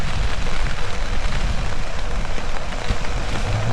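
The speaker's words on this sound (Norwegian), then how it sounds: "Mye vind og pissregn" Heavy rain and strong wind batter the mountains in winter, with a dense, constant roar of rain and gusts close by and no pauses.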